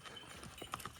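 Horse hooves clip-clop on a mountain trail in Mustang, Nepal, in a short run of close, uneven steps with a couple of sharper knocks near the end, alone without talk.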